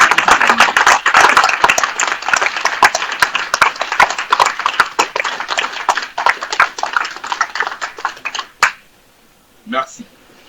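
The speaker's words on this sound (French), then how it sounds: "Il faut applaudir toute l'équipe technique" Dense applause for a technical crew at a political rally in Ivory Coast, loud and sustained with sharp claps and shouts before cutting off, followed by a couple of brief spoken words.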